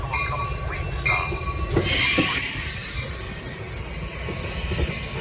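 A Metra commuter train arrives at a suburban station, a loud rumbling roll with wheel squeal and high metallic ringing tones, the rumble swelling midway and then holding steady.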